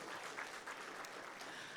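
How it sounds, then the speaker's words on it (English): Steady applause from a pension seminar audience, a dense even patter of clapping that holds at a constant level throughout. "Please give him another round of applause."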